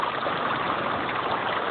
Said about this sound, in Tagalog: kahit malakas yung agos ng tubig, dito sila tumadaan